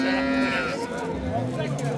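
A cow, an imported Holstein from Estonia, moos loudly and close by at a livestock market, one long sustained low call with crowd noise and voices around it.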